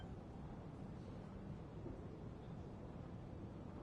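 A thunderstorm in Genshin Impact with a steady, low rumbling wash of rain and wind that holds at an even, faint level throughout, without a distinct thunderclap.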